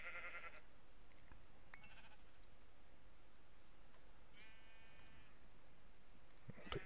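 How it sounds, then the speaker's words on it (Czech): Sheep in the video game Minecraft give two or three short, buzzy bleats over steady background noise, with faint game clicks between them. "našel jsem ovce, což je dobrý"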